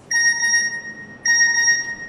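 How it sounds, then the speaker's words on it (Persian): A mobile phone rings in a classroom: a loud, clear electronic ringtone with steady tonal chimes, sounding twice in repeating pulses, close and alone without talk. "بازم صدای موبایل مال هر کی که بود."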